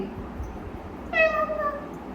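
A voice imitates a cat's meow: a single clear, drawn-out mew rising out of a quiet room, close to the listener.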